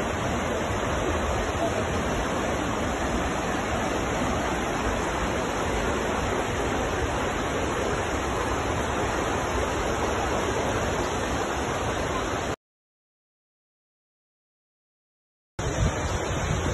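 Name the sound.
waterfall in a valley, flowing water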